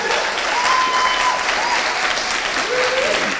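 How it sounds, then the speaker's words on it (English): Steady, dense applause from a conference audience for the organizers at a plenary panel on treaties, a continuous wash of many hands with a voice briefly audible over it. "how about giving the organizers a big round of applause?"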